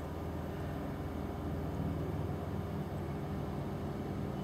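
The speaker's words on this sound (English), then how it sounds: "That helicopter sounds rather big and low" A big, low helicopter flying overhead, heard as a steady, heavy low rumble with a throbbing beat throughout, close and fairly loud.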